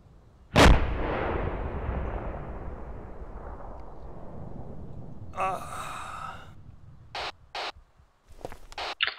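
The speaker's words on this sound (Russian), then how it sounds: "Это еще РПГшка выстрелила." An RPG launcher in the ArmA 2 war game fires with one loud, sharp blast that rolls away in a long, fading rumble. A few shorter bursts of sound follow near the end.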